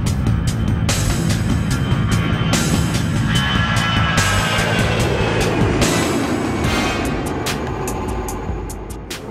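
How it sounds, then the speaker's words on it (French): A Moscow-Paris passenger jet taking off, a loud, steady broadband roar that holds throughout with scattered sharp clicks and eases off slightly toward the end. "un vol Moscou-Paris décolle"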